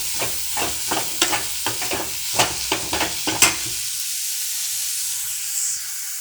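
Dried fish fries in a pan while a spoon stirs it in quick repeated scrapes over a sizzling hiss, the stirring stopping halfway and leaving a soft continuous sizzle.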